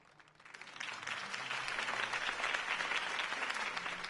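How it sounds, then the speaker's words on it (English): Crowd applause following a campaign speech in a video game, rising quickly from quiet into a steady wash of clapping that carries on to the end. "If only Mr. Wayne, my campaign's largest backer, could have heard that applause"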